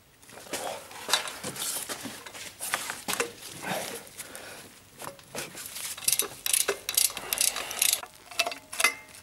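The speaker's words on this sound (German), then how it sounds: "Als nächstes löst ihr jetzt die beiden Schrauben des AGR-Kühlers." Ratchet loosening the 6 mm hex bolts of the EGR cooler on a BMW diesel engine, a quiet, irregular series of close clicks and metallic rattles in short bursts.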